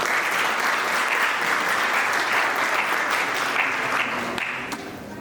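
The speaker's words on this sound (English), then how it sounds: "Let's have a round of applause, please, for Dr. Markus Tomaszitz." An audience applauds a speaker introduced at an annual marketing conference: dense, steady clapping fills the hall throughout and tapers off slightly at the end.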